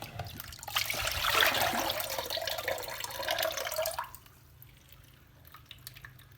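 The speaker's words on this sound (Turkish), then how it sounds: "Evet bu suyumuzu da süzelim." Water pouring and trickling through a sieve while straining brine-shrimp hatching water, a loud splashing stream for about four seconds before it thins to faint drips.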